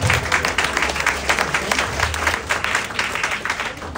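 A church congregation claps in steady, dense applause at a Sunday service, the sound continuous and fairly loud throughout with no pause.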